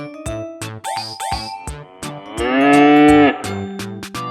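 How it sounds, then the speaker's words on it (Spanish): A cow lows with one long, drawn-out moo in the middle, close and loud. Bright jingling, chiming notes come before and after it. "Hoy vamos a aprender cómo se escribe y hace la vaca."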